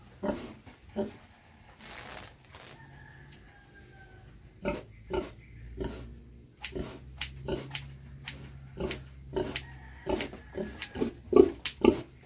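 A sow in labor on a farm gives a series of short grunts and snorts, irregular at first and then quicker and louder, fairly close.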